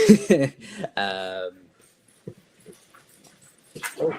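Pet dogs give brief high whimpers and whines at the start, then fall quiet apart from a few small soft noises, ending with another short whine indoors.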